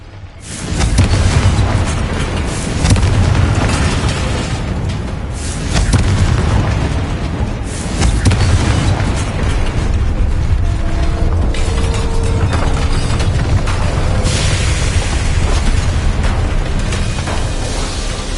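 Hogwarts Legacy combat: a Confringo fire spell bursts amid a run of booming explosions and clanking magical impacts, loud and dense throughout with no speech.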